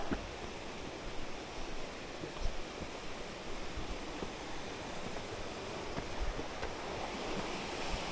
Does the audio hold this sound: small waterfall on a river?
yes